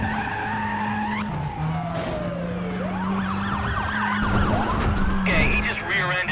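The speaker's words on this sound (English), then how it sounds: "Okay, he just rear-ended us." Tires skid and a car thuds into the back of a police car in the video game Need for Speed Undercover, with a wailing siren sweeping up and down throughout and a voice speaking over the noise.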